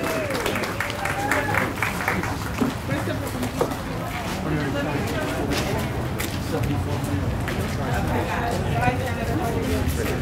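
An audience claps at a Union County freeholder installation and certification ceremony in Linden; steady, continuous applause runs through the whole stretch, mixed with overlapping talk and room murmur.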